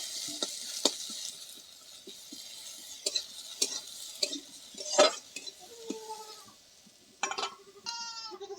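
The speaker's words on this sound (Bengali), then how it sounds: "দিয়ে দেবো পেঁয়াজ কুচি পেঁয়াজগুলোকে ভালো করে ভেজে নেব" Chopped onions fry in a pan with cumin seeds, giving a soft, quiet sizzle broken by scattered clinks and scrapes of stirring. A few squeaky tones come near the end.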